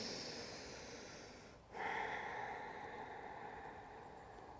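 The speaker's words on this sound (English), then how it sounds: "start to come into your Ujjayi breathing, in and out of your nose." Ujjayi yoga breathing, in and out through the nose during an outdoor session at a state park: a long, close, airy rushing exhale is followed by a brief pause and then a breathy inhale, with no talking.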